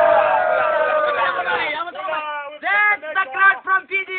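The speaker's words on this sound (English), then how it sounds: "That's the crowd from Fiji, the long way down from the Pacific" A Fijian wedding crowd cheers and chatters, many voices close together forming a dense, lively babble with drawn-out whoops and sung-out calls rising above it.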